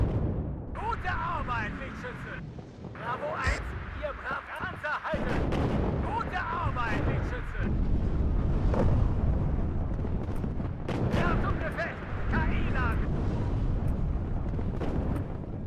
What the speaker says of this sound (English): That's a napalm launcher.